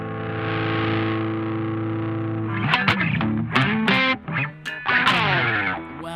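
Electric guitar played loud through distortion effects pedals: a long sustained fuzzy chord, then a burst of choppy distorted notes and bends, close and loud.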